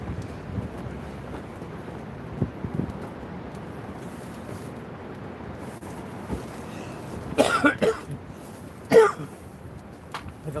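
A man coughs twice outdoors at night while sea fishing for cod at Cleveleys, the short bursts near the end standing out over steady wind and low background rumble; no talking.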